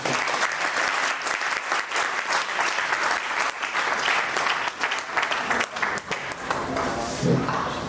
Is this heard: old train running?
no